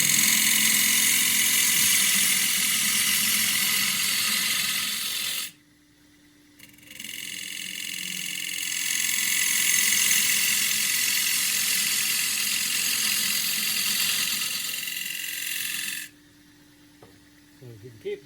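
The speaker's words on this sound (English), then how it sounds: "if you can keep the tool, this edge, parallel to the lathe axis, just push it straight in, you should cut a cylinder" A wood lathe spins a wooden tea box while a turning tool cuts a straight cylindrical flange, a steady loud whirring hiss that stops briefly twice as the lathe pauses, with the lathe's motor hum beneath.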